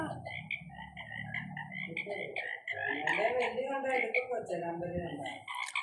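Frogs croak steadily in a dense, continuous chorus, with a person talking over them throughout.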